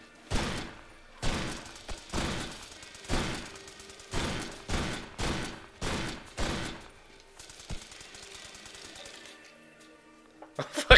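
A quick series of about nine sharp rifle shots rings out in the shooter game H-Hour, evenly spaced and moderately loud, followed by quieter ambience and a final shot.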